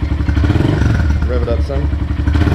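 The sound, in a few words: Honda CRF125F motorcycle engine revving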